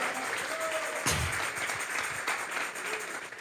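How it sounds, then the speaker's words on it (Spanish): A church congregation applauds during a sermon on the second coming of Christ, a soft, steady wash of clapping heard from some distance in a reverberant hall. "Vamos a regalarle ofrendas de palmas al Dios de la gloria"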